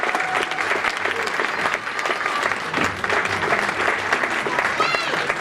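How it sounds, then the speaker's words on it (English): An audience at a tribute event with a 21 drum salute applauds steadily and loudly for the whole stretch as performers leave the stage, with crowd noise mixed in. "can you just applaud, give people some applause as they come off stage"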